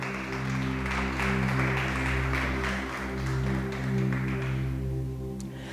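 Congregation applauding for the King during a church service, steady broadband clapping filling the room for several seconds over a sustained low organ or keyboard drone.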